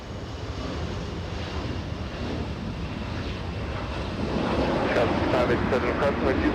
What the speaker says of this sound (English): Qatar Airways taking off via the south side.